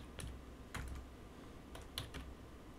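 Keys on a computer keyboard clack in a few quick, uneven clusters, faint and close, as a short command is typed into a Kali Linux terminal.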